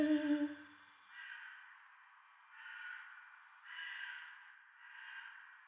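Faint, distant caws from a crow outside a window, picked up inside a room, four harsh calls spaced about a second apart after a brief low thump at the start.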